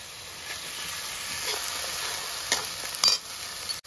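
Green chili paste drops into egg curry masala frying in a pan, bringing a constant hiss of oil and a few short scrapes and knocks toward the end.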